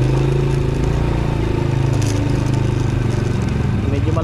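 Motorcycle on a provincial road in the Philippines during a delivery trip, its engine droning steadily and loud throughout with low harmonic hum, while a voice talks over it.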